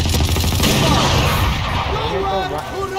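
Rapid gunfire in a shooting video game, dense overlapping bursts and rattling shots, loud and close, with a voice talking over the action.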